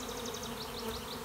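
Steady, close buzzing of a late-season honey bee swarm marching into a hive box, an unbroken drone with no voices.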